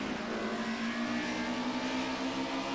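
BMW race cars dueling on the Zolder circuit produce a steady, droning engine note held at high revs, fairly close and continuous, with no break in the sound.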